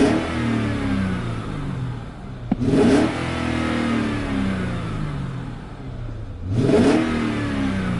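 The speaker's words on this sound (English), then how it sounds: "Sounds great when you rev it up." A 2010 Mercedes-Benz CL-Class engine with about 127,000 miles on it is revved twice from a steady idle, each blip climbing sharply and falling back, loud and close.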